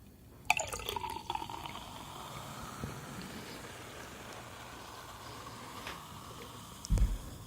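Champagne is poured with a bright splash and fizzing crackle, then a soft steady hiss of bubbles fading, ending with a brief clunk.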